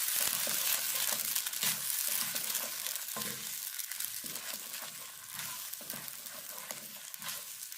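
A thick potato paste mixture with wheat flour cooks in a pan, giving a soft continuous sizzle broken by scraping stir strokes at a steady, close pace.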